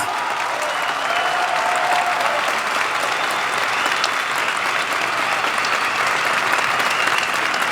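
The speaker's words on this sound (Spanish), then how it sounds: "Un aplauso para las jubiladas y los jubilados." Sustained applause from a large audience at a book presentation, dense steady clapping filling the room without a break, loud and close.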